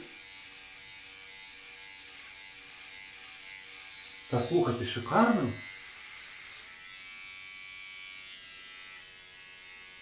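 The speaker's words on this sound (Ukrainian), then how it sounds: "на шиї вроді добре бриє" An electric trimmer-shaver, an MLT copy of the Philips OneBlade, buzzes steadily close by as it shaves neck stubble, with a person speaking briefly over it partway through.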